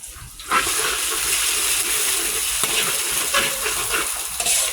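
Six eggs are stir-fried with thin rice noodles for pad see ew, a loud continuous sizzle and hiss with steady scraping and stirring close by.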